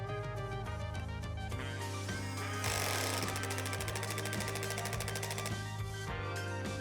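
A cordless impact wrench set to assist mode 2 drives a 17mm nut. Rapid, steady hammering with a buzzing motor whine runs close and loud for several seconds, with no talking.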